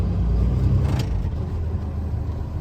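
A truck rolls forward slowly at about 5 miles an hour during an in-cab pre-trip inspection, giving a low, steady engine and road rumble heard from inside the cab, with no talking.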